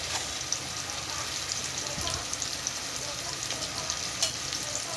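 Curry leaves and green chillies fry for mutton curry in a constant bright hiss of hot oil, nearby and even, with a few faint clicks of stirring.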